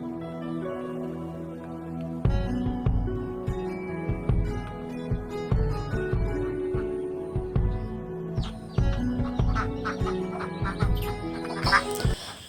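Ducks quacking repeatedly and loudly nearby in a rural setting, overlapping calls in quick irregular bursts, with a rooster-like or chicken call mixed in.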